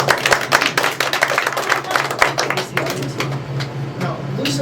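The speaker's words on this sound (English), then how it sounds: "Give a round of applause." Audience clapping at a live stage show where a volunteer is called up, a steady dense patter of hands with crowd murmur and a low hum underneath.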